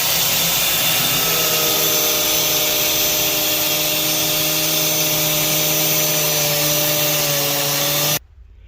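A power tool cuts through a pipe while a Fiat Ducato heater core is replaced, making a loud, steady high-pitched whine that holds for about eight seconds before stopping abruptly.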